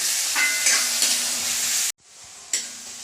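Sliced onions with a pinch of salt sauté in a pan for beef curry, a close, steady sizzle with stirring that briefly cuts out and then resumes.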